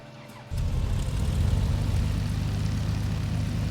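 The Lycoming engine of a BN-2 Islander in Microsoft Flight Simulator 2020 kicks in abruptly, then settles into a steady, low propeller drone that runs on without talk.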